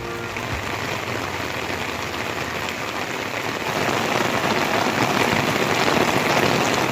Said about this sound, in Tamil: ஈசிஆர் சாலை, சோழிங்கநல்லூர் ஆகிய பகுதிகளிலும் பலத்த மழை வெளுத்து வாங்கியது.